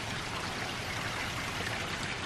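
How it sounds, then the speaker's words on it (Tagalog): Calm, steady rain falls as a dense, even hiss of drops with no pauses or gusts. "Pero ulan siya. Kalmadong ulan."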